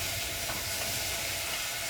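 Butter sizzling in a hot pan, a steady close hiss with faint stirring underneath, continuous and alone without voices.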